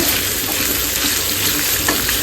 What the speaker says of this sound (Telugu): ఫస్ట్ అయితే పోపు పెట్టేసి అల్లం, పచ్చిమిర్చి లైట్గా ఫ్రై అయిపోయిన తర్వాత